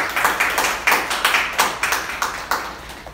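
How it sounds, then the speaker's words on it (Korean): A small audience at a forum applauds after a presentation. The clapping is sparse and rhythmic, with distinct individual claps at a steady pace, close and fairly loud, with no talking. "다시 한번 큰 박수"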